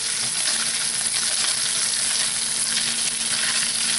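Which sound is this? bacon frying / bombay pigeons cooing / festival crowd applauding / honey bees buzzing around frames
bacon frying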